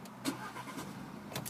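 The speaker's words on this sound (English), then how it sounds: "no problem starting the vehicle at all." An Audi A5 S-line TFSI petrol car with manual gearbox starts up, a brief starter crank and catch followed by the engine settling into a smooth, fairly quiet idle heard from close by.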